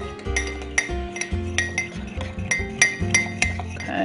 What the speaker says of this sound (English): Scrape my fork.